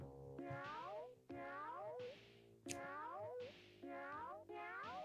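A cat meowing repeatedly, about six drawn-out rising-and-falling meows in a steady series, fairly clear but low in level.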